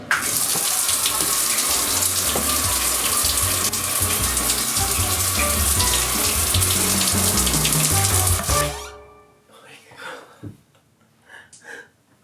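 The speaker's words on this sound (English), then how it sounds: "take a shower on the boat." A shower on a boat sprays water steadily for about nine seconds, then shuts off, leaving faint rustling and small handling noises.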